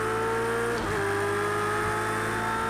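Ferrari race car engine in the Project CARS 2 racing game, a loud sustained high-pitched engine tone with a brief dip and shift around the one-second mark, steady and close with no talk.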